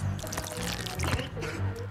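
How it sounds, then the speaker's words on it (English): A water gun sprays in the Luigi's Mansion video game, producing bursts of splashing, pouring liquid over a low rumble, moderately loud. "That is a water gun."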